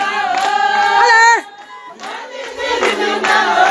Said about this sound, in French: On applaudit le Seigneur.